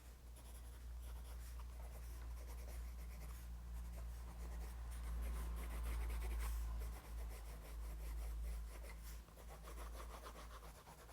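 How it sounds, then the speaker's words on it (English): A colored pencil scratches and rubs on paper in short repeated strokes while shading tree branches, soft and close with a steady low hum behind it and no talking. "you're going to do that by just making short little lines and adding shading to the side"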